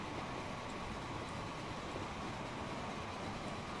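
Steam locomotives race in the Transport Fever video game, giving a steady, dense rumble of rolling train noise that stays at an even, moderate level throughout with no distinct beats.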